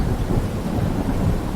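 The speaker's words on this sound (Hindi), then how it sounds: "तभी तेज बारिश शुरू हो गई।" Heavy rain pours down in a dense, steady roar, with a deep rumble like thunder underneath. It is loud and continuous, with no voices.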